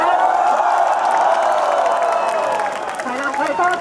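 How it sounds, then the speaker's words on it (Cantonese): An audience at a Blue Ribbon Movement gathering in Hong Kong gives a full, steady burst of applause and cheering for Miss Chow, crowd noise filling the whole stretch with voices mixed in. "我哋俾啲掌聲啊，周小姐。"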